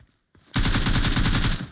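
Rapid automatic gunfire from the PUBG Mobile battle game, one loud, sustained burst of closely spaced shots lasting about a second after a brief quiet lead-in.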